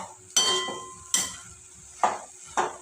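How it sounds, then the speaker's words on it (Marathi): Carrot halwa being stirred in a pan, a spoon scraping and knocking against the metal in four separate strokes at irregular intervals, close and fairly quiet with no voices. "चला तर परत एकदा आपण याला हलवून घेऊया।"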